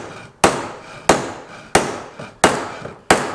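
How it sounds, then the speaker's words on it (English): Five sharp metallic brass hammer blows drive an outer bearing into an MGB banjo rear hub at a steady pace, each ringing briefly before fading, close and loud with no talking. "driving the outer bearing, using a brass hammer, so there aren't any chips."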